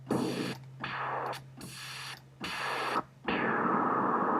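Synthesizer white noise hisses in bursts that cut in and out several times, with the tone color shifting between bursts, and a low steady hum underneath.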